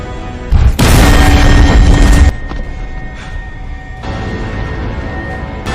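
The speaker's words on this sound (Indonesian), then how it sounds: "bongkahan es itu meledak dan mengeluarkan sinar ke langit" A block of ice bursts open in the animated film Avatar: The Last Airbender, a loud, sustained explosive roar lasting nearly two seconds, then fading into a lower rumbling hum.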